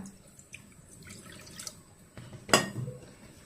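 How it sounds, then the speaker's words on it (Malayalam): Water poured into a cooking pot for a Kerala curry, a soft trickle and a few drips, then a brief louder splash midway, fairly close. "ഇതിലേക്ക് ആദ്യമേ വെള്ളം ഒഴിച്ച്"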